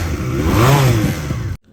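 The exhaust of a QJ Motor SRC 250, a neo-retro twin-cylinder 250 motorcycle, revs up from idle to a throaty peak, then falls back, loud and close, and cuts off abruptly.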